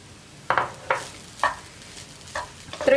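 Veg fried rice with spring onion being stirred in a hot pan as the flame goes off, giving five or six sharp scraping strokes with a faint sizzle between them and no talk.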